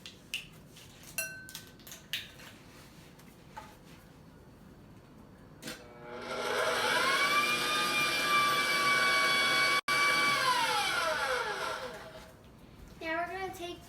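An electric stand mixer whirs steadily for several seconds, mixing tiramisu roll batter, after some light kitchen clatter and taps, then winds down at the end.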